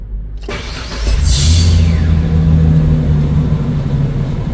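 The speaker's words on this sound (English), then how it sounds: "as you heard, it actually started right up" A van engine cranks briefly and then catches, settling into a loud, steady idle close by that carries on to the end.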